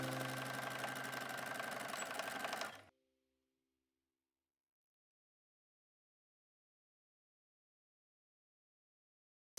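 A sewing machine runs a steady, fast stitch along a French seam toward a vent and hem for about three seconds, then stops abruptly into near silence.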